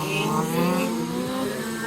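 A race car roars past at close range during the 12-hour endurance race at Saint-Affrique, a loud, steady engine drone with shifting pitch and no voices over it.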